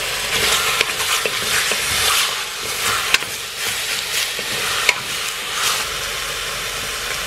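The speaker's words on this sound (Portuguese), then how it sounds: "e começo fritando o nosso pernil" Pork leg (pernil) with bone frying in a pan for canjiquinha mineira, a steady close sizzle and hiss with occasional stirring scrapes and a couple of sharp pops, no voices.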